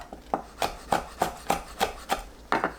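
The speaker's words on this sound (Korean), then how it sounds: "작게 썰어주세요" A knife chops finely through red and green chili peppers on a cutting board, giving about ten crisp, evenly spaced strokes that are close and fairly loud with no voices over them.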